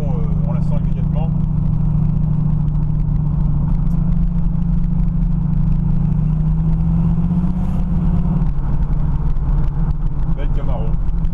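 A 1968 Chevrolet Camaro SS 396 muscle car drives with a steady, loud low engine rumble that shifts pitch slightly as it pulls, continuous throughout and close, with no clear words spoken over it.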